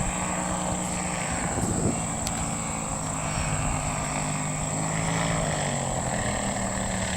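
Tail-dragger propeller airplane landing in gusty, partly downwind conditions, a steady distant engine drone with wind rumble and buffeting, no voices.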